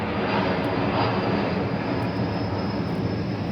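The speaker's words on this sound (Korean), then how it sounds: "김포의 상징 비행기가 날아가고 있습니다 우리 집 지붕 위로 바로 날아가고 있습니다" An airplane passes low over a house roof in Gimpo, a loud, steady, broadband engine roar filling the whole stretch without letting up, with no voices.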